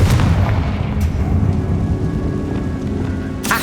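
A Confringo fire spell explodes in Hogwarts Legacy, a loud rumbling blast that opens the clip and rolls on as a dense, booming roar, with a sharp crack near the end.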